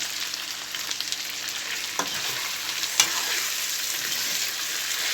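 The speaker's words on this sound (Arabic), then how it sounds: "واسيبهم برضو يتشوحوا شويه مع بعض" Red and green peppers sautéing in a pan give a steady close sizzle and crackle, with a couple of faint utensil clicks and stirring sounds, no talk.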